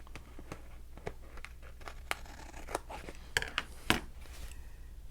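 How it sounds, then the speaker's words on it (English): Scissors trimming a protruding paper pocket on a boxfold craft piece, heard as a series of sharp snips and crinkles at irregular intervals, close and moderately loud over a faint steady background hum. "I'm going to go ahead and trim that with scissors"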